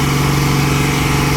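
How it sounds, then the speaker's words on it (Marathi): A concrete pump runs at a construction site during grade slab concreting, giving a steady, loud mechanical engine drone with a constant low hum and no break across the short stretch. "पंप चालू केलेला आहे."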